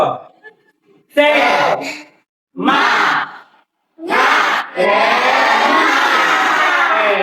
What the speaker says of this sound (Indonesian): tepuk semangat untuk kita semua dulu